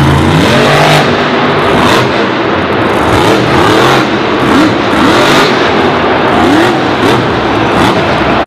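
An off-road car engine revs loudly and close, a steady droning roar with repeated rising pushes of throttle across the whole stretch.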